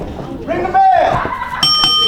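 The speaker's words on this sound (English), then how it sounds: "Ring the bell!" A wrestling ring bell rings at a VCA wrestling event, its sustained metallic tone entering late in the clip, loud and ringing over crowd and voice noise.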